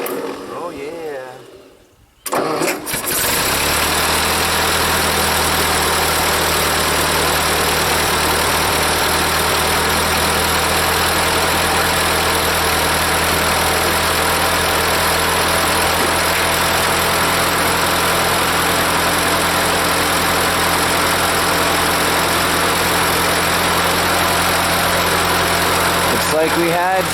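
A Ford 8N tractor engine, just started after a carburetor cleaning, settles into a loud, steady idle with a low rumbling drone that continues unbroken after a brief quiet moment at the start.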